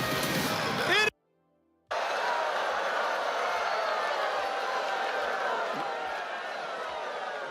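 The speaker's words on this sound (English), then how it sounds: "Pop from the crowd." Wrestling arena crowd at a WWE Women's Championship presentation, a steady roar of cheering and wooing that fills the space, briefly cut to silence before resuming at full loudness.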